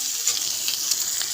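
Soybean chunks fry in hot oil for a Bengali soybean malai curry, giving a steady, bright sizzle with small crackling pops throughout.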